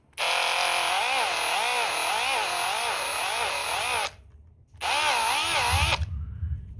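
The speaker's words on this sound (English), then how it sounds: "So to countersink it, you just need that same drill." A power drill countersinking a 3mm screw hole in the main body of a Ghostbusters 2 trap replica, whining loudly and steadily for about four seconds, pausing briefly, then running again for a shorter burst, close up.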